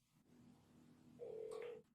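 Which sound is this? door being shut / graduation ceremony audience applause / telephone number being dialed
telephone number being dialed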